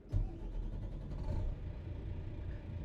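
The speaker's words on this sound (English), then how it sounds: "So let's turn the engine on." A Volvo VNL 2025 truck engine in American Truck Simulator cranks and catches with a sudden burst, then settles into a deep, steady idling rumble close by, with no talking.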